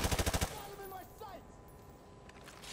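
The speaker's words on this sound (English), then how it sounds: "I stepped in front of someone's gunfire." Automatic gunfire from the video game Modern Warfare 2, in the Gulag mission on PS4: a loud, rapid burst of evenly spaced shots opens, then gives way to quieter battle ambience with faint distant shots and voices.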